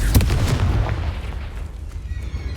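A Confringo fire-blast spell explodes in Hogwarts Legacy, a sharp close boom at the start followed by a rumbling, decaying tail that fades over a couple of seconds.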